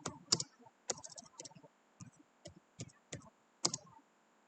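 Someone types on a computer keyboard while writing Java code. Crisp, uneven clicks come in short clusters with brief pauses, close and fairly quiet, with no talking.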